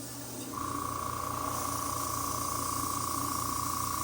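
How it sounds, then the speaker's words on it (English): An Avanti airbrush from Harbor Freight sprays paint for weathering model trains, giving a steady close hiss with a thin high whine that starts abruptly after a brief pause and runs unbroken to the end. "when you start to hear like almost like a water sound, that's the paint actually coming out of the brush"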